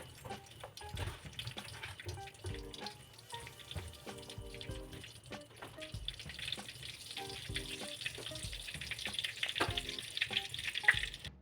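A pinch of mustard seeds spluttering in half a spoon of hot oil in a pan for tempering, with a steady crackling sizzle that runs throughout, dense and moderately loud, alongside some scraping.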